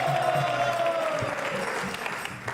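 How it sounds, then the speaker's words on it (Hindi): Audience at a Hare Krishna Mission quiz show on Sanatan Dharma applauding a contestant, loud sustained clapping from a crowd, with a voice or tone briefly carrying over it near the start. "नेहा के लिए तालियां जोरों से बजाइए, जोरदार।"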